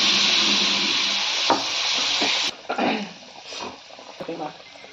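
Food dropped into hot oil for frying in a home kitchen, a loud hissing sizzle that cuts off sharply partway and continues more quietly under someone speaking.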